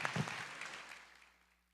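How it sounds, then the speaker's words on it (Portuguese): Brief, faint burst of audience clapping in a church setting for a man's wife, tapering off quickly within two seconds. "Queria que vocês batessem palmas para ela."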